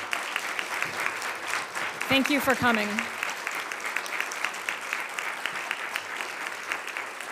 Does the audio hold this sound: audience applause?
yes